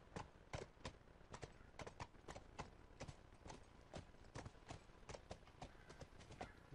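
Horse hooves clip-clopping steadily at a riding pace across a courtyard in The Last of Us, a continuous run of sharp, fairly close hoof strikes with no one speaking.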